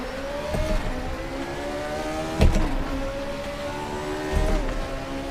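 A racing car engine in the game RaceRoom Racing Experience drones steadily with rising and falling pitch, punctuated by a couple of sharp whooshing bursts like turbo blow-off.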